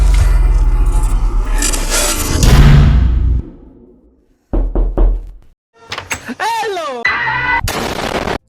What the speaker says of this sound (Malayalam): പക്ഷെ നല്ല ഒച്ചപ്പാടോടെ അടയാണ്.